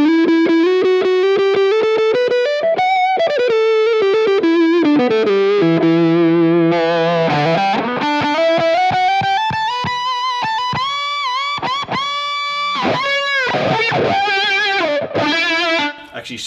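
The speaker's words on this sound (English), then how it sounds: "Actually sweeping the wah and using it as a regular wah with the octave fuzz on, it is a pretty trippy kind of a sound too." Electric guitar run through an Axe Fx 2 octave fuzz with a sweeping wah, loud gliding notes whose tone swells and dips in a vocal, wavering way across the whole stretch.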